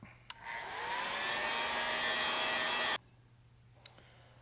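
A heat gun sets fresh paint on an airbrushed chrome crappie-pattern fishing lure, a steady loud blowing whir that starts with a click, runs about two and a half seconds and cuts off abruptly, leaving quiet room tone.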